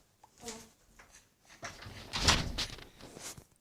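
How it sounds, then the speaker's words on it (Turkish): A door shuts somewhere in a home, a muffled thump mid-clip among faint background sounds and soft voices. "Anne kapıyı kapatır mısın?"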